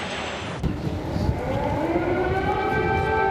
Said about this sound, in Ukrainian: Сирени, що завили у цю мить у столиці